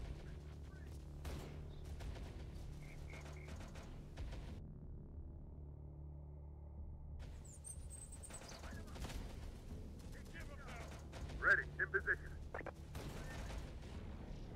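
Gunfire in the tactical game Terminator Dark Fate Defiance, scattered sharp shots and short bursts over a low rumbling background, with brief spoken lines in between.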